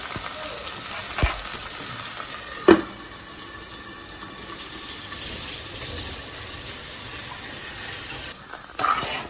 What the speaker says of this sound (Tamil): அப்புறம் வெங்காயம் வெங்காயம் நல்லா வெந்து வரட்டும்